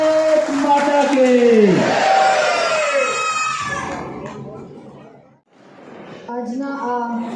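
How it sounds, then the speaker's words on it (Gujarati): A crowd at a Kargil Vijay Diwas tribute for martyred soldiers chants a patriotic slogan in loud unison. A long, swelling shout fades out, then a second burst of chanting follows after a brief pause. "આપણે એકવાર તાળીઓના ગડગડાટથી બોલો ભારત માતા કે."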